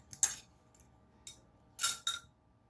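A spoon clinks against a dish a few times while cream is served onto strawberry cobbler, giving sharp, bright taps with short pauses between them, close by and with no talking.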